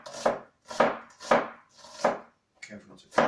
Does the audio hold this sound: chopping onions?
yes